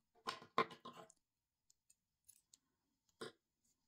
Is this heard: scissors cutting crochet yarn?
yes